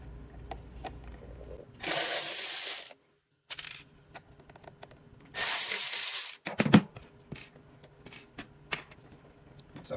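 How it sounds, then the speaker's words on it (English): Screws being removed from the touchscreen of a Mazda CX-5 with a power driver: two loud, steady whirring bursts separated by light clicks, taps and handling noises close up. "Pop these 2 screws out once there and there."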